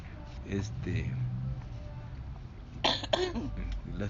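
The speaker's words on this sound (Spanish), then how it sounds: "le estoy notando que está tosiendo un poquillo" An elderly woman coughs and clears her throat a few times in short bursts, close by, with people talking around her.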